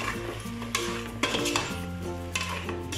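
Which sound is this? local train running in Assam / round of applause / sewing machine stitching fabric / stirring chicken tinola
stirring chicken tinola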